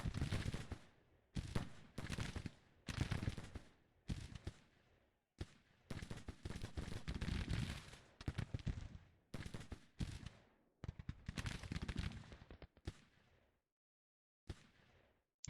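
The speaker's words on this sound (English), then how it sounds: "Casnola has started opening fire on him." Gunfire in the Grand Tactician: The Civil War game: a dense crackle of musket volleys and rapid shots in repeated bursts separated by short gaps, loud and close.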